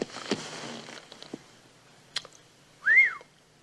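A person whistles a single short rising-and-falling note drawn in on an inhaled breath, heard alone and close after some quiet rustling.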